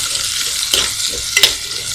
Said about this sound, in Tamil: இதில் நம்ம 3 பச்சை மிளகாவை சேர்த்துக்கலாம். கீரி வச்சிருக்கேன். அப்புறம் கொஞ்சோண்டு கருவேப்பிலை சேர்த்துக்கோங்க. நல்லா வதக்கி விடுங்க.